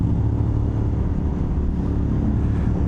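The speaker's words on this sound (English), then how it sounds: "you hear much more of the exhaust note, which is wonderful on a big twin like this." Big twin motorcycle on the Geiger Grade road climbing toward Virginia City, a deep continuous exhaust drone heard from the saddle, steady and loud with wind rush layered over it.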